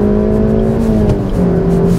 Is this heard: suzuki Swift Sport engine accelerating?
yes